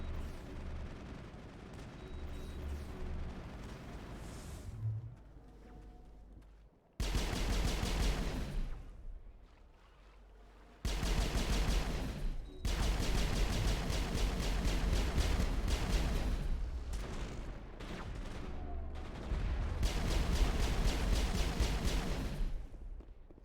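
Heavy crossfire in a Mass Effect battle roars in long, loud sustained barrages of gunfire and blasts, broken by brief quieter gaps.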